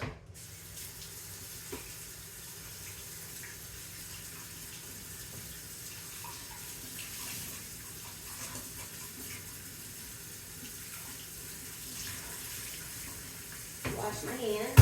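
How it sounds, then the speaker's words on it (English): Tap water runs steadily into a kitchen sink while hands are washed under it, a soft continuous hiss and splash with a louder clatter and gush near the end. "So I'm going to wash my hands real quick."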